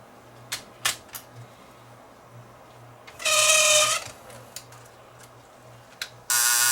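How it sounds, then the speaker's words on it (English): A Fostex D10 DAT deck with a loading fault trying to take a tape, heard as a few sharp mechanical clicks, a loud whirring motor burst, more clicks, then the motor starting again at the end. "It's not fully, it's not completing the loading cycle."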